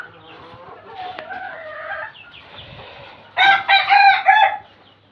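Chickens on a poultry farm cluck and call, softly at first and then in a louder burst of squawking near the end.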